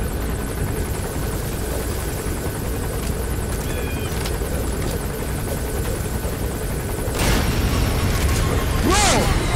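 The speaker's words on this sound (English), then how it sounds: "the chopper landed, right? On top of the roof to pick up the people" Helicopter rotor chopping steadily while touching down on a rooftop during a game, a continuous loud thrum with a louder burst near the end.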